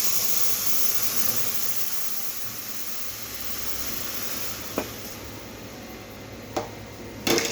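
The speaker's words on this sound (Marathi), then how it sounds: "यामध्ये आपण टाकूया उकळतं दूध" Boiling milk poured into roasted vermicelli for kheer, a steady close sizzling hiss that runs throughout, with a few sharp clinks of utensils toward the end.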